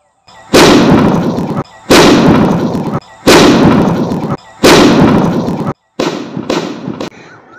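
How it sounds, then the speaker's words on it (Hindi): Firecracker blasts go off one after another, about six loud, sharp bursts spaced roughly a second apart, each followed by a brief echoing decay, with the last two shorter and closer together. "माशाल्लाह धमाका थे चुके दोस्तों"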